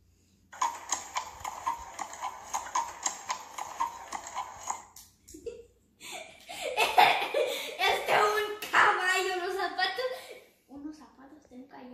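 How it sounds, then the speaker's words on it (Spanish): Horse hooves clip-clop in a quick regular rhythm for several seconds as part of an animal sound guessing game, then stop, followed by bursts of children's laughter and excited voices. "Unos zapatos de un caballo, las patas de un caballo."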